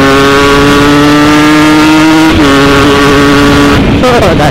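A standard Kawasaki Ninja RR two-stroke running a TM 32 carburetor roars close and loud while being ridden, its steady high-pitched buzz holding before the revs shift and drop near the end.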